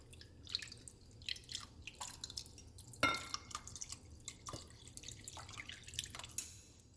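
Broth for a soy sauce marinade for Korean marinated eggs is poured, giving soft irregular drips and small splashes. The sound is quiet and close, with a brighter splash near the middle.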